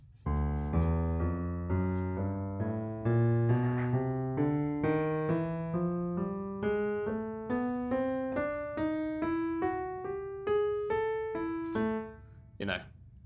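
A walking bass line on piano, a steady run of single low notes climbing gradually in even steps, each one clearly struck and close up, with no chords above.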